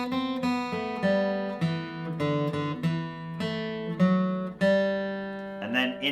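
Bluegrass acoustic guitar plays the ending passage of We Wish You A Merry Christmas, a steady run of picked single notes with ringing sustain, close and clear, finishing on a held note with no talk over it.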